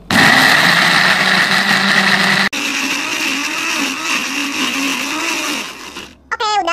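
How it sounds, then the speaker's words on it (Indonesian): An electric blender grinds cooked ingredients for spicy squid sambal with a loud, steady whirring roar. The motor briefly cuts out once, then runs on and winds down near the end. "kita bakal blender sebentar aja ya"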